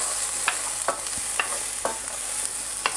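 Garlic and onion frying in a pan over medium heat, a steady sizzle with regular spatula scrapes and taps every half second or so, close and clear with no speech.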